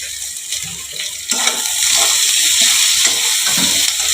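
Potatoes with turmeric fry and sizzle in a pan, a loud, close hiss with bursts of stirring and scraping and a faint voice underneath.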